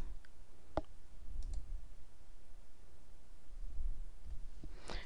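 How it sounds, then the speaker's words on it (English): A computer mouse gives one sharp, close click, then a few faint clicks follow over quiet room hiss. There is no talking. "I'm going to click create database"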